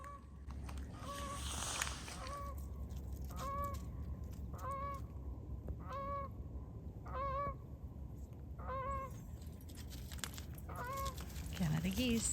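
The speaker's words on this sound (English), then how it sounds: "Canada geese." Canada geese on a small oyster-shell beach at a waterfront state park honk repeatedly in spaced, nasal calls, moderately distant over a steady outdoor background.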